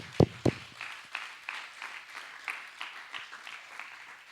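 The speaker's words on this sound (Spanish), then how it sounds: "Dar un aplauso a este Dios." Scattered applause from a church congregation during a sermon, with a couple of loud nearby claps at the start followed by softer, spread-out clapping that thins over a few seconds.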